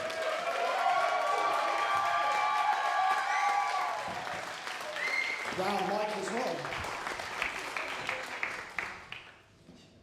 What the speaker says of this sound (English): Let's give a round of applause to Ian, please.